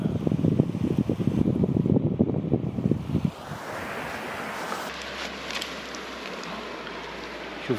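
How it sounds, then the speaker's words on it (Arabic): River water rushing through a valley at a campsite near Sulaymaniyah, a steady broadband wash that is loud and close for the first few seconds, then settles into a softer continuous flow. "هذا النهر،"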